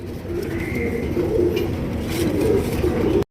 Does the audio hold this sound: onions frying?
no